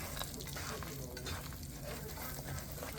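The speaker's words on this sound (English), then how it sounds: "It's kind of sizzling a little bit." Steady, quiet sizzling and crackling of food frying in a pan, a continuous hiss with no talking.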